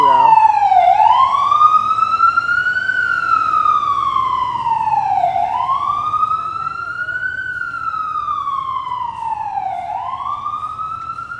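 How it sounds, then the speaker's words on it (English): An ambulance siren wails on a city street in Park Slope, New York, rising and falling in long, loud sweeps that repeat about every five seconds over low traffic rumble. "And the ambulance can't get through now."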